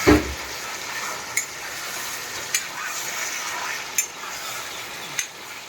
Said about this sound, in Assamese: এই মাংস দি আৰু হিলাই আছোঁ মই